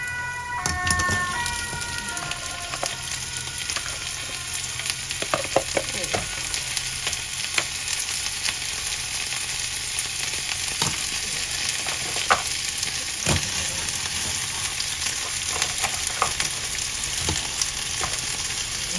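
Crab (alimasag) goes into a sizzling pot of beans and squash cooked in coconut milk, giving a steady loud frying hiss with stirring clatter and a few sharp utensil knocks throughout.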